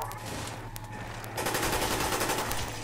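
Rapid gunfire in a zombie video game, a steady stream of shots over a low background hum that grows louder and denser partway through, close and continuous with no talking.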